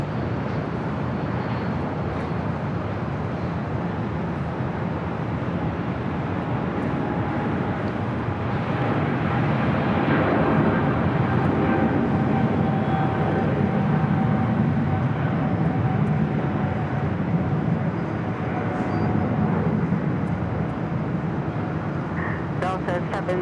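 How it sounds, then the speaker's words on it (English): A Korean Air Cargo Boeing 777 freighter at LAX roars on its takeoff run from runway 25 left, a steady, loud jet rumble lasting the whole stretch and swelling slightly midway. Faint background chatter sits underneath. "Korean Air Cargo 777 freighter now taking off 25 left."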